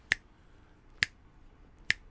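Three crisp finger snaps ring out alone, spaced about a second apart, each sharp and close against near silence.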